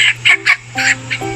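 A chicken gives five short, sharp squawking calls in quick succession, close by, with a steady low hum underneath.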